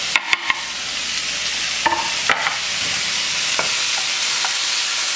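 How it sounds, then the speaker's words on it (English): Tomatoes are added to a hot frying pan for a tofu scramble, giving a steady, loud sizzle with a few sharp clicks and scrapes of a spoon stirring, and no talking. "now we can go ahead and add our tomatoes. I love that sound."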